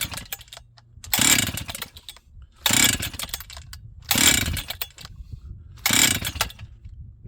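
A Husqvarna 268XP chainsaw from an auction, with bad fuel in its carburetor and on choke, gives four loud, evenly spaced pull-start rasps that do not catch, with quiet gaps between them.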